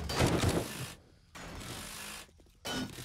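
Parts being wrenched off a car in the survival game 7 Days to Die: bursts of ratcheting mechanical clanking broken by brief near-silent pauses.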